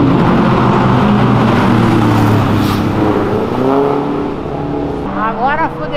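A loud sports car engine roars at a meet of Ferrari-style cars on Avenida Europa, holding a deep rumble before several rising revs near the end, with people talking over it.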